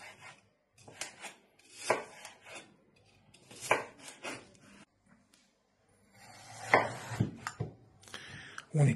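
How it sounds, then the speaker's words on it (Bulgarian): Knife chopping homegrown organic apples into roughly 2 cm pieces on a board for apple cider vinegar: irregular clusters of close, crisp cuts, separated by short pauses, with heavier chopping toward the end. "Всичките ябълки ги нарязваме на парчета."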